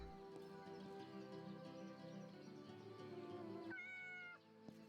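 A cat in the video game Yes, Your Grace meows in a drawn-out tonal call over layered game music, and a brighter chime rises near the end.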